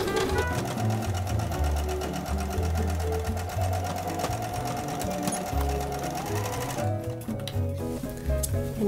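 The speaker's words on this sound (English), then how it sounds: "I'm going to backstitch at the beginning and the end." Sewing machine stitching a seam in hemp canvas, including backstitching, a loud rapid mechanical rattle running steadily with brief shifts in pace near the end.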